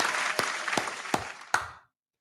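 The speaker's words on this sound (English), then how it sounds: "Round of applause." A short patter of applause, with a few sharp claps standing out over a steady wash of clapping, comes through on a live basketball-watching stream. It is moderately faint and cuts off abruptly after under two seconds.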